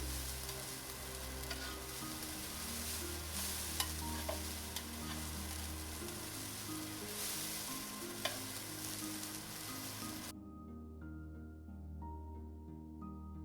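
Kimchi fried rice being stir-fried, with steady sizzling and scraping of a spatula against the pan, continuous and close, no voices; the frying noise cuts off near the end, leaving a quiet background.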